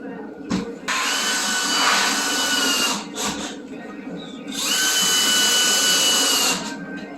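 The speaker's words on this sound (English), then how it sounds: "Throw a couple more screws in the bottom" A power drill drives screws into wood, its high whine sounding in several close, loud bursts separated by brief pauses.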